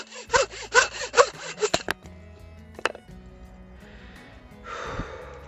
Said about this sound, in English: I've used this mitre saw to chop down trees before